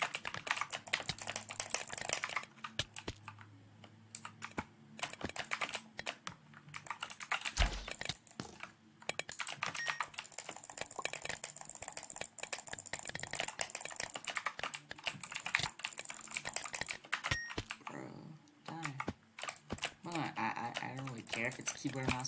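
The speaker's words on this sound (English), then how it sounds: "So this is another keyboard and mouse and video." Computer keyboard and mouse during bridge games online, close rapid typing bursts and scattered clicks with pauses, a voice talking at times.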